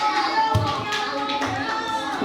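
Children clap out the rhythmic 'tepuk salut' chant in a classroom, a few sharp clap bursts with voices mixed in.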